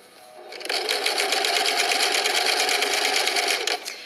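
A sewing machine runs an edge stitch in one steady burst, its fast rhythmic needle chatter starting abruptly, holding an even pace for about three seconds, then stopping, close and loud.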